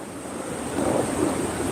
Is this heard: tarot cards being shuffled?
no